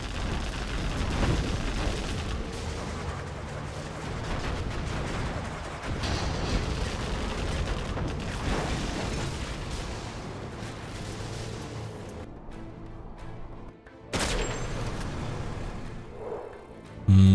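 Deep booming artillery shots and explosions roll through a competitive video game match, heavy rumbling impacts sustained and fairly distant, with a sharper blast near the end and a sudden loud hit at the close.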